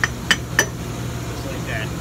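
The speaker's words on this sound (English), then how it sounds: "Very gently, you just tap it and it should come free." A few light metallic taps, three sharp clinks in quick succession, on the valve plate of a semi-hermetic refrigeration compressor being gently knocked free, close and fairly quiet over a low background hum.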